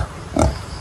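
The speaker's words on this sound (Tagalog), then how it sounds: "Laki ng baboy ni Kuana." A single short grunt from a large pig, loud and close, heard alone.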